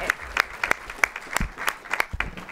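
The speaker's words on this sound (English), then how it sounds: "let's give them a round of applause." A small audience at a school district board meeting gives scattered, uneven clapping, with distinct individual claps rather than a dense roar, close and lasting a couple of seconds.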